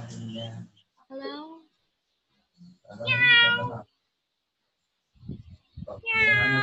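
A cat meows several times, drawn-out calls separated by silent gaps, near and clear, with a few brief voice sounds in between.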